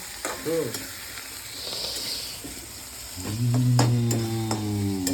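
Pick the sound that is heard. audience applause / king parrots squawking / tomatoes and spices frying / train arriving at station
tomatoes and spices frying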